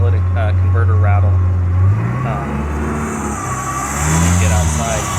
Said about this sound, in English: You'll hear a little bit of catalytic converter rattle.